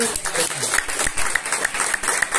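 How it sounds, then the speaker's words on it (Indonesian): Lively applause from a seminar audience, a brisk, dense rattle of many clapping hands that stays steady throughout while a speaker's voice carries over it. "Tepuk tangan yang meriah."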